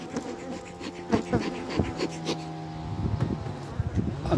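Honeybees buzz around an opened beehive during a winter hive check, a close, steady, layered drone with sharp passing buzzes and handling knocks, and someone speaks intermittently.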